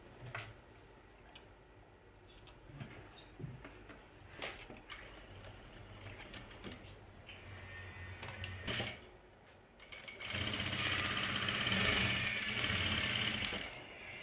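Sewing machine stitching gota patti trim along a kali joint of a lehenga, quiet close ticking at first, then a louder, denser run of fast stitching near the end, with no talk.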